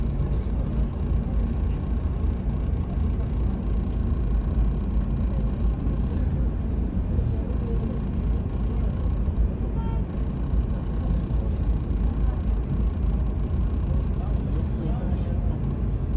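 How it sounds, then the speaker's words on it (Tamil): Road traffic on a Dubai road trip, heard as a steady broad rumble of vehicles and road noise from inside a moving car, constant and fairly loud, with a person talking over it. "Traffic, over traffic."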